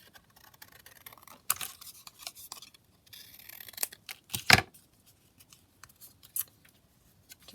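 Scissors snip and trim a piece of card in a quiet room, a few sharp isolated cuts with soft rustling and handling noises between them, close and faint.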